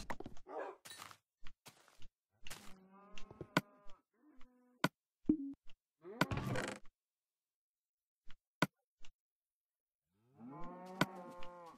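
Minecraft cow mooing in a survival skyblock world, with a couple of drawn-out moos separated by scattered clicks, thunks and blocky game sounds amid quiet gaps.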